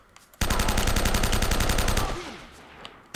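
Sustained automatic gunfire in the video game Uncharted: Drake's Fortune, a loud, dense burst of rapid shots lasting about a second and a half before tapering into softer rattling and debris.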